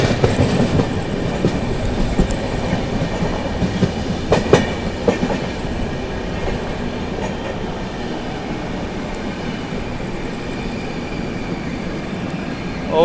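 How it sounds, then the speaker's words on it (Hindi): The Maharashtra Sampark Kranti Express overtakes the Darshan Express, heard from onboard as a steady rumble of rolling wagons with clickety-clack rail joints and a few sharp knocks, no talk. "हम लोग ओवरटेक कर रहे हैं मिराज जंक्शन से चलकर हजरत निज़ामुद्दीन की ओर जाने वाली दर्शन एक्सप्रेस को ओवरटेक कर रहे हैं"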